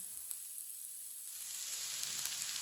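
A spiced kabab mixture with red chilli and turmeric roasts in a pan, a soft hiss that is faint at first and then swells into a steadier sizzle, with no talk over it.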